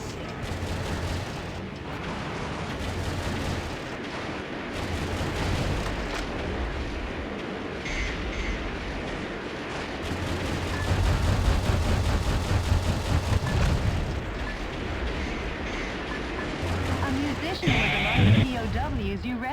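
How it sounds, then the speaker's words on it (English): Gunfire and explosions in the video game Metal Wolf Chaos XD: dense, continuous bursts of shooting and booms that grow louder and heavier in the second half, with someone talking over the action. "Shooting guns."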